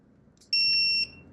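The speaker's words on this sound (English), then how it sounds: "So you'll hear the torque wrench." Digital torque wrench beeping while tightening BMW N54 head bolts: a single clear, high electronic beep about half a second long, close by, over a faint low background hum.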